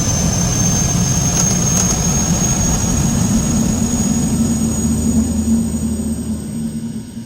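Steady, loud engine roar with a high whine from a C90 King Air in X-Plane 11, running continuously and easing slightly toward the end.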